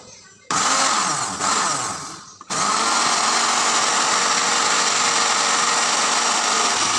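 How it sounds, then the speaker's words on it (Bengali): Electric blender grinding ginger into paste: a loud whirring motor starts in a short burst, dips briefly, then runs steadily and strongly to the end. "এখন হাতে আমার সময় নাই, তাই ব্লেন্ডার করে নিতেছি।"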